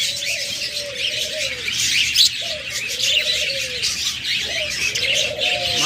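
Pet budgerigars, cockatiels and lovebirds chirp and warble steadily over a bright, busy chatter of many small birds, with repeated sliding whistled calls standing out clearly up close.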